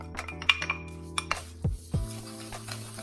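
A spoon scraping and clinking against a bowl while graham cracker crumbs are mixed with chopped pecans, a few sharp knocks and a low resonant ring, close and alone.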